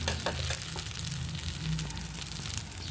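Kadapa karam dosa, a spicy Rayalaseema-style dosa, frying in oil on a hot pan, giving a steady close-up sizzle that carries on without a break.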